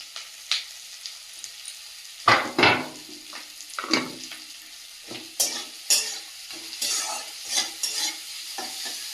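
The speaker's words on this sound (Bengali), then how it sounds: "পেঁয়াজটা ভালোভাবে ভেজে নেব" Onions fry in a pan with a steady soft sizzle, broken by repeated scraping strokes of a spatula stirring them. The strokes come in irregular bursts, close and fairly loud, with no voices.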